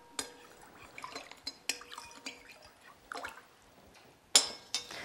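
Marbling binding agent being mixed into water makes soft, intermittent sloshes, drips and light container knocks. The sounds are quiet and close, scattered irregularly, with one sharper splash near the end.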